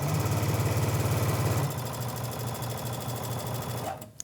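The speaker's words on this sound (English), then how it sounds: "Okay, so you just want me stitching right there. Right on the line." A sewing machine stitches a Fourth of July pillow along a marked line, running fast with a rapid mechanical whir before slowing to a lighter steady chatter and stopping with a click at the end; close and loud, no talk.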